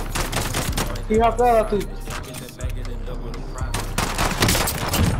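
Rapid gunfire in Call of Duty Warzone, shots fired through a car's back window, loud close bursts broken by brief pauses while someone talks over them.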